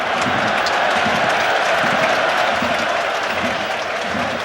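A stadium football crowd at a Champions League qualifier between Dinamo Zagreb and Arsenal applauds a referee's ruling, a dense, sustained wash of clapping and crowd noise from far across the ground.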